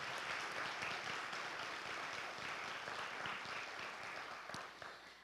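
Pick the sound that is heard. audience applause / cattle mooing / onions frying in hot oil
audience applause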